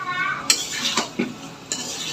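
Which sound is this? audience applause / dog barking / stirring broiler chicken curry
stirring broiler chicken curry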